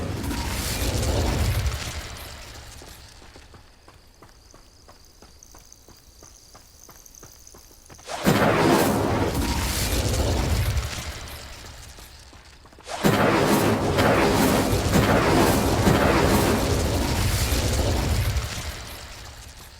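Two bursts of roaring, crackling flame from the Incendio fire spell in Hogwarts Legacy, each erupting suddenly and sustaining for several seconds, between stretches of quieter ambient rumble and a faint rhythmic ticking.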